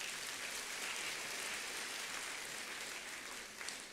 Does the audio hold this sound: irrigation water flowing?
no